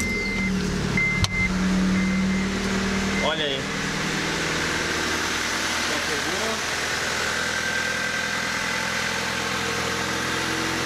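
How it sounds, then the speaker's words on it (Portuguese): A cold Honda Civic engine starts and settles into a steady idle, with a continuous mid-range drone running throughout, and someone speaks briefly over it. "Vamos ligar o carro aqui, ó."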